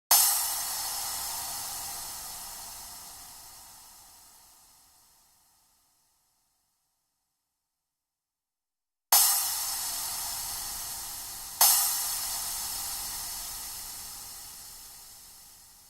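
A synthesized sizzle hiss, like white noise, bursts in loud and bright and then fades slowly to silence. After a gap, two more sharp hiss bursts each start hard and decay gradually.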